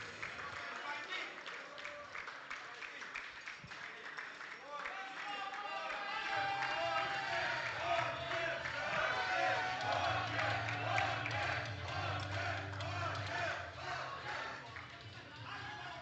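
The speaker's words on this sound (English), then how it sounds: "One more big round of applause for all these wonderful athletes" A crowd at a regional powerlifting championship session in the Cayman Islands applauds and cheers as athletes leave the stage, a sustained, fairly distant wash of clapping and voices with a low rumble building midway.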